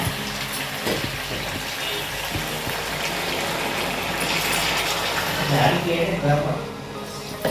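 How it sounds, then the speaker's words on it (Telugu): Tamarind broth poured into a pan of frying korameenu fish curry, a steady gushing liquid stream with sizzling beneath it, continuous and close for several seconds. "ఇప్పుడు తగినంత పులుసు పోసుకోవాలి"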